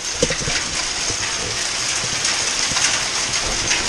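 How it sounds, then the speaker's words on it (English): Small hail pelting down outdoors, a steady dense patter of tiny impacts close by that holds even and continuous throughout, with no voices over it. "Yay! Hail!"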